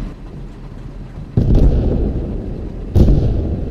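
Two heavy tank cannon blasts boom out in Post Scriptum, a second apart, loud and close, each followed by a rumbling tail over a steady engine drone, with no talk.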